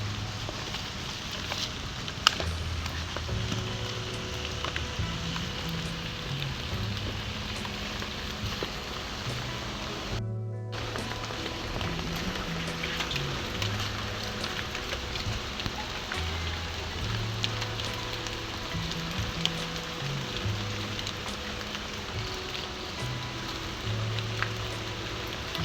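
Steady rain falling during Cyclone Fengal, a constant dense patter on surfaces near a house, with low intermittent hum underneath and no talk.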